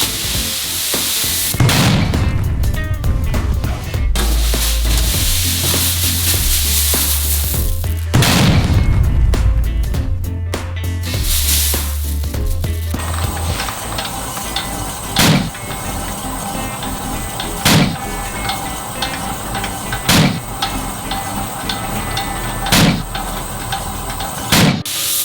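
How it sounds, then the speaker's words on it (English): Rice being puffed in a large puffing cannon aimed into a bag, a loud continuous roaring blast of rushing steam and grain, then hissing with sharp bangs or knocks repeating about every two and a half seconds. "We point the cannon inside the bag and blow it up."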